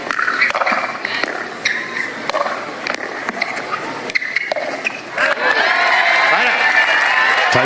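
Crowd at a professional pickleball match in Atlanta cheering and clapping after a rally, with a broadcast commentator talking over the noise, which swells into sustained cheering near the end.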